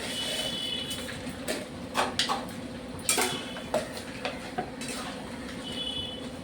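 Sugar being stirred into a sweet chutney in a pot, with a steady low simmering bed and repeated close spoon scrapes and clinks against the pot, spaced irregularly through the stretch.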